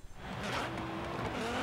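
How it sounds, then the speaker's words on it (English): A race car in the Forza Horizon 3 video game pulls away with a loud, sustained engine roar that climbs in pitch, mixed with tire noise, and no one talks over it. "It drives! We can actually drive in Forza"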